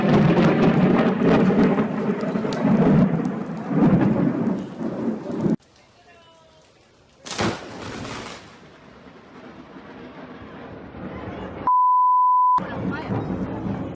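Thunder from a nearby lightning strike, a loud sharp crack and rumble amid rain that cuts in and out, followed by a short electronic beep.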